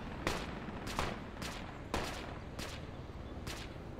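Rifle fire in Project Reality: six sharp, distinct shots spaced roughly half a second apart, fairly close and crisp, with no talking.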